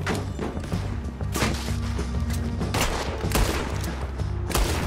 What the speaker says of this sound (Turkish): Kaç tane mermi atacağım abi sana?